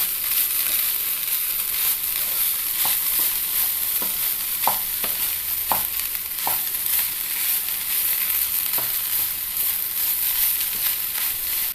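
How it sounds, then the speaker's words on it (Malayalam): Cooked green gram is stirred into a banana flower stir-fry in a pan, with a steady sizzle of frying under repeated scraping and clinking of the spoon against the pan. "നന്നായിട്ടൊന്ന് മിക്സ് ചെയ്യണം"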